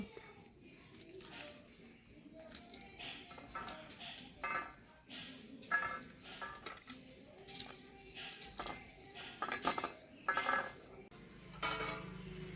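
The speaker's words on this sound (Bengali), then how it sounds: "এবারে আমি মটরশুঁটিগুলোকে ছাড়ি নেব" Green peas being shelled by hand: faint, sparse pod snaps and soft clicking pops scattered irregularly over a quiet, hissy background, with no speech.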